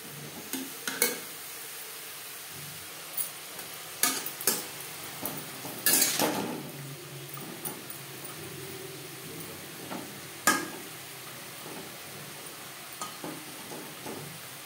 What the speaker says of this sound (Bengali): লবণ হলুদ বরবটির সাথে বেশ ভালো করে মিক্সড করে দেবো।